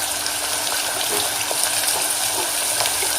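Onion and tomato frying in a pan with salt added, a steady loud hiss and sizzle with faint crackles running continuously without pause.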